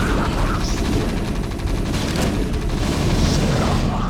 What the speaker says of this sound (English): That explosion can really get us into trouble.